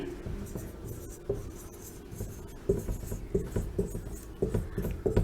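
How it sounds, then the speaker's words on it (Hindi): Chalk or marker strokes on a classroom board during a Hindi science lesson: a series of short scratchy taps and scrapes, close and fairly quiet, growing denser toward the end with no talk over them. "चलिए यहां पे फिर से लिख देते हैं।"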